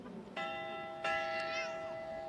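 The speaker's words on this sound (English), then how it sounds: "One such cherished tradition is the ringing of the victory bell" A high school victory bell, cast in 1891, rings out at a graduation ceremony, with two distinct strikes whose bright metallic tones sustain and overlap, heard fairly clearly over a noisy background.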